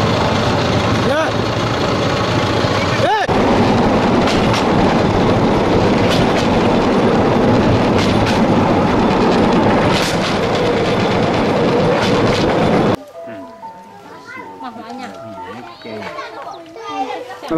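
A wagon on a railway line in Cambodia clatters loudly and steadily along the rails while children's voices carry over the rumble. The noise cuts off abruptly near the end, leaving a much quieter scene with scattered voices.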